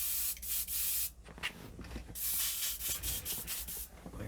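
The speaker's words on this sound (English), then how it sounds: "My airbrush cleaned out." An airbrush being cleaned out sprays in a continuous close hiss with rapid pulsing bursts and brief dips as the trigger is worked.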